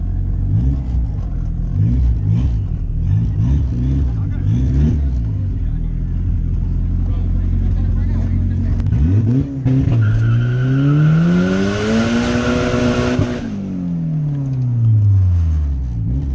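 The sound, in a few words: BMW car engine revving at a car meet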